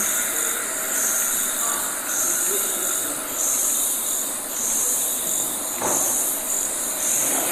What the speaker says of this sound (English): So here we not only have the sound of the cicadas